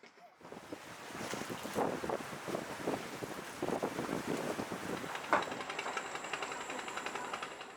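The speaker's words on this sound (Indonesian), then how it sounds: "Ini angin timur ini sekarang ini." East wind gusting along an Indonesian fishing coast, a steady rushing roar with buffeting wind noise against the microphone and surf underneath, continuous throughout.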